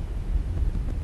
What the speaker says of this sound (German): Ein scharfer Wind weht über den Strand von Datan.